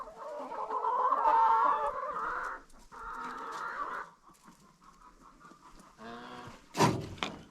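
Hens cluck and call in a farmyard as they are fed Argentine cockroaches, with a steady run of throaty clucks, short pauses, and a sharper, louder squawk near the end, all fairly close and with no talk.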